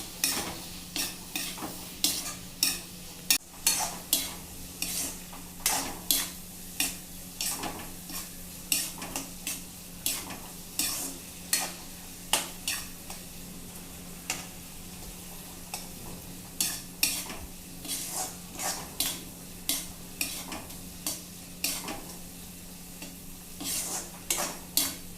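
Coriander powder, cumin and tomatoes frying in a pan for a sour fish curry, with a steady sizzle under a rapid run of metal spoon scrapes and clanks against the pan, close and continuous.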